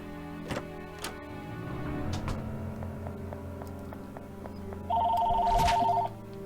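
A phone rings in the video game Aria's Story, a short electronic ringtone that sounds near the end over soft game music with ticking clicks.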